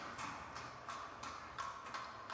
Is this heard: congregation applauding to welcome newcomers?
no